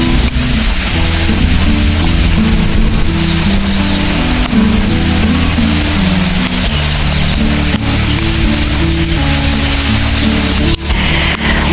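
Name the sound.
heavy monsoon rain in the mountains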